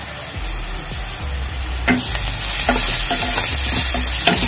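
A spoon stirs ground pepper powder and garam masala in a frying pan for a mint soya taco filling, giving repeated scraping strokes over a steady close sizzle of frying, with no speech.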